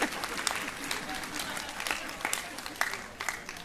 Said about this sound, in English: I have got a list here if you're going to clap.